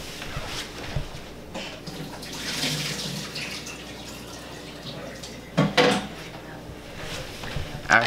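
Boiled boba pearls being strained, with water splashing and pouring through a strainer in a kitchen sink, plus a couple of sharper clatters near the end; steady running-water wash throughout, no talking.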